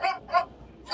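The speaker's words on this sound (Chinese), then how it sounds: "哦，变狗叫了" Two short recorded dog barks sound from a coin-triggered donation box in Bremen, Germany, close by, followed by the start of a third.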